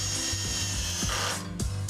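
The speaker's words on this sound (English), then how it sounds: "the drill's turning mechanism is designed to fail and stop screwing under the slightest tension" A power drill with its clutch engaged driving a screw into wood, giving a near, loud whirring hum broken by repeated ratcheting clicks as the clutch slips at regular intervals, with no voices.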